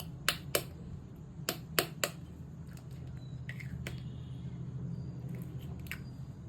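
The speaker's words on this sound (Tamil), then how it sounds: "எல்லா முட்டையும் உடைச்சு ஊத்தியாச்சு" Eggs cracked one after another into a bowl in a home kitchen for a bread toast recipe: a run of sharp, quiet taps and cracks close by, clustered early, over a steady low background hum.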